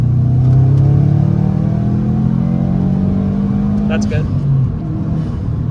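A 2010 Subaru STI engine pulling hard in third gear, a loud, steady rising drone heard from inside the car, with a voice speaking briefly over it before the revs ease off.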